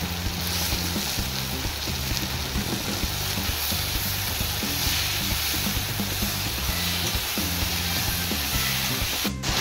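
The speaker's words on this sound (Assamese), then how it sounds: "ইয়াতে আমি দি দিম এতিয়া চপ কৰি থোৱা বিলাহীখিনি।" Chopped tomatoes frying with browned onions in a pan for fish curry, a dense, loud, continuous sizzle close up, steady throughout with no talk.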